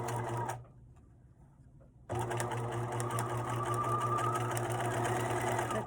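Sewing machine stitching around a zip wallet with a contrast top band, a fast steady mechanical whir that pauses briefly into near silence, then resumes just as loudly.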